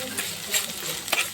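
Onion and spices frying lightly in oil for a fish curry, giving a soft, steady sizzle with a few brief stirring scrapes over a short stretch.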